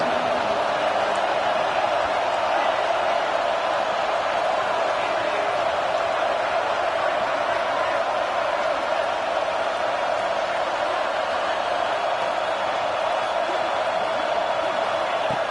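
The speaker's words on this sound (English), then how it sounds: "Third down, and the crowd really getting into it." A football stadium crowd roars on third down, a dense and steady wash of cheering that holds at an even level throughout.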